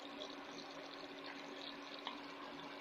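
Gram flour batter for Mysore pak is poured into hot sugar syrup in a pan, making a steady, soft hissing pour that stays even throughout.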